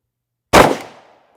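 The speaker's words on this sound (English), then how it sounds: "I'm shooting a Lehigh Defense non-expanding extreme defense load into calibrated FBI gel" A single sharp, loud 10mm KRISS Vector gunshot, firing a Lehigh Defense non-expanding Extreme Defense load into calibrated FBI gel, cracking out of silence and decaying quickly.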